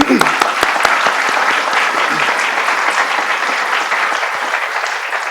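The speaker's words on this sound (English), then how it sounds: "let's give them a round of applause" Loud, sustained applause from an audience at a college fall semester in-service program, dense clapping holding steady for several seconds with a few crisp claps at the start.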